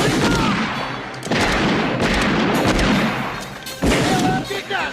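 Gunfire from a comedy western shootout comes as loud, repeated bangs and crashes layered over a noisy scene. Shouting voices break in between the shots.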